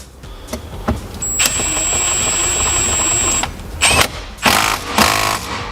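Power tool with a 19mm socket tightening the steering wheel nut on an Isuzu D-Max, a sustained loud whir for about two seconds, then several short rattling bursts, close up with no talking.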